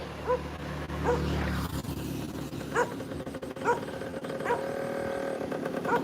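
An injured dog with a broken leg, found by a roadside at dawn, whimpers and yelps in several short, high cries over steady traffic and engine noise nearby.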